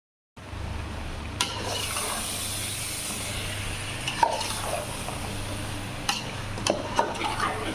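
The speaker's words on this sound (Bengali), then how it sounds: "তারপর কি বলে টমেটো, লাউ সব কিছু মিলাইয়া মুরগির মাংস রান্না করতেছি" Chicken curry with potato, eggplant, tomato and gourd cooking in a pot: a steady sizzle and bubble, broken by a few sharp clinks and scrapes of stirring; no voices.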